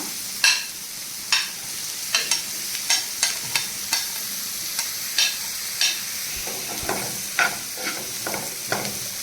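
Garlic sautéing in a hot pan, a continuous low sizzle with frequent crisp taps and scrapes of a spatula stirring at an irregular rhythm.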